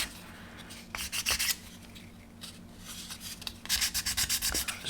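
A plastic model kit part being rubbed with 600-grit sandpaper, close and dry, in quick rhythmic back-and-forth strokes that come in bursts with short pauses between them.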